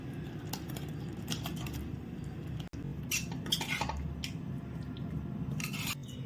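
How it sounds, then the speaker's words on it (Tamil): Paneer cubes go into a simmering creamy white kurma gravy in a pan and are stirred with a spoon, giving steady clinks and scrapes against the metal over a low cooking rumble, with no talking. "பன்னீர் சேர்த்துட்டு நல்லா கிளறி விட்டுக்கலாம்."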